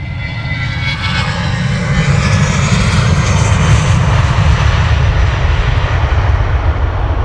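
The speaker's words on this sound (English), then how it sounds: "Next aircraft taxiing down, ready for departure. Another Wizzair." A Wizz Air jet at London Luton Airport roars loudly, its engine noise swelling into a heavy, steady rumble with a high whine as the plane powers up for departure.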